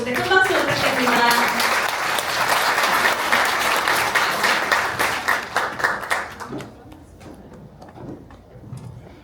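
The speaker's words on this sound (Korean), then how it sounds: "우리 구본욱 아이오님 무대를 보실 때 큰 박수 부탁드립니다" An audience claps loudly and steadily, then the applause thins into scattered claps and fades out.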